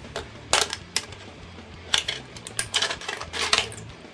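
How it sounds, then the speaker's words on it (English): Scissors snip through the top of an empty aluminium soda can in a series of sharp metallic clicks and crinkles, irregularly spaced and close up, with no talking. "first what you need to do is cut the top of the can off"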